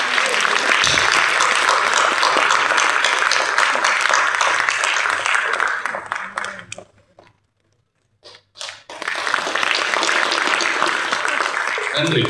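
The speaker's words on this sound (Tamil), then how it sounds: "ஒரு பெரிய கைத்தட்டு கொடுத்துருக்கேன்." Loud, dense applause from a crowd at a movie audio launch event fills most of the recording, cuts out into near silence briefly, then resumes just as strong.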